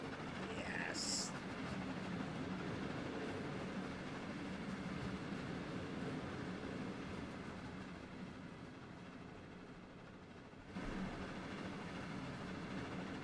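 A train rumbles past in Trainz Simulator 3 on a green German route, heard as a flyby. It is a steady, dense rolling roar that fills the whole stretch, with a brief dip and then a swell near the end.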